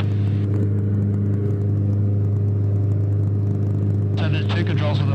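A light aircraft engine at full power during the climb after takeoff gives a loud, steady, close droning roar that holds constant throughout, with a brief voice rising over it near the end.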